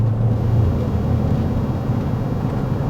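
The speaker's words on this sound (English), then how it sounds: "So you can definitely hear a little bit more exhaust in the cab, and we're only going 30" Chevy Silverado with a FlowMaster 40 Series exhaust, heard from inside the cab at about 30 mph as a steady low engine and exhaust rumble with road noise underneath, with no talking.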